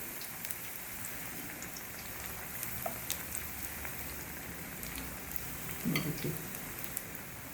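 Ram laddoos deep frying in a kadhai of oil over medium heat, a steady quiet hiss of bubbling with faint crackles throughout, no talk.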